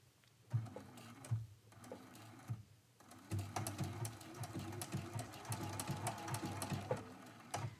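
A sewing machine stitches a tiny blanket-stitch appliqué on a quilt, starting in short stop-and-go runs before settling into a steady, close mechanical whir with a rhythmic needle chatter.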